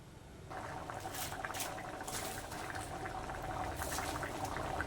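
Mutton gravy bubbling steadily in a pot, a soft continuous boil with small pops and gurgles that starts quietly and holds at a low, even level throughout.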